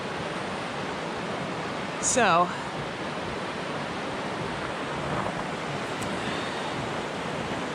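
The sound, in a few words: rushing river water flowing after ice melt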